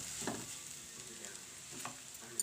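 Carrot halwa frying and being stirred in a pan gives a soft, steady sizzle with a few faint scrapes of stirring, close by and with no talk over it.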